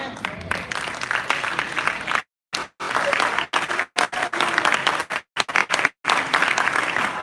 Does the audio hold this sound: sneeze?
no